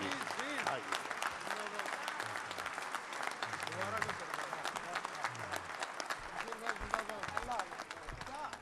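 Applause from an Urdu society gathering as the audience stands to welcome Professor Wasim Barelvi, a full dense round of clapping from a large crowd that runs the whole time, with voices murmuring and calling out beneath it.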